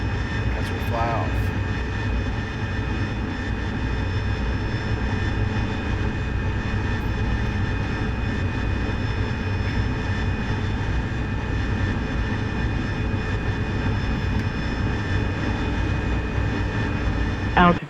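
An AV-8B Harrier jet engine in the DCS flight simulator roars steadily at high thrust during takeoff, a constant whine and rumble that fills the scene, with someone talking throughout.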